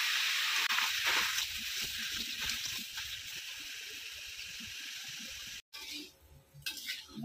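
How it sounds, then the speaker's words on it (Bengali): Chopped tomatoes sizzle and hiss in a dry frying pan as they are stirred to cook off their water, a steady loud bubbling hiss with occasional scraping, briefly cut off near the end. "শুকনো কড়াইতে টমেটোটা দিয়ে দিয়েছি।"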